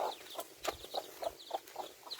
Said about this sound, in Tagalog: Ayun yung manok ni Tito, tsaka mga sisiyo niya.